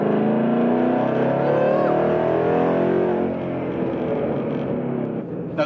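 A 2013 Ford Mustang GT California Special with a V8 engine accelerates hard in third gear, its engine note rising loud and close, then easing slightly near the end, with people talking underneath.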